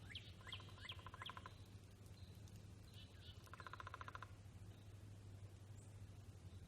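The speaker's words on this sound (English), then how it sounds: "It's a pileated woodpecker." A pileated woodpecker calls outdoors in two bursts of quick, rapidly repeated high notes, fairly faint, over a low steady hum, with a human voice murmuring underneath.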